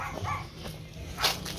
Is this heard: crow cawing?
no